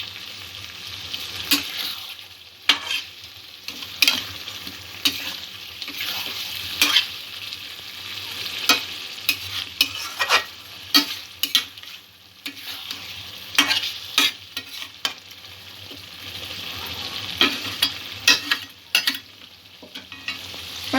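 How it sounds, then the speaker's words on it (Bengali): Potato and spinach curry sautéing in a pan: a continuous loud sizzle with frequent scraping and stirring clacks from a spatula, going on for a long stretch with no voices. "পালং শাকটা দিয়ে আরও একটু কিছুক্ষণ তরকারিটা কষিয়ে নেব।"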